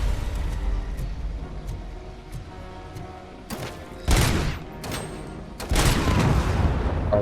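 Grenade explosions and gunfire in the Robocop: Rogue City video game: a steady rumbling battle backdrop broken by several sharp bursts and booming blasts, the loudest arriving in clusters toward the end.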